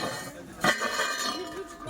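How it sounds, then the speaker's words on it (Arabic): A ceramic cookware pot set is knocked together in a Dubai market, giving one bright, ringing clink that decays slowly, with a person talking alongside. "ده سيراميك، طقم حلل سيراميك سامعين الصوت؟"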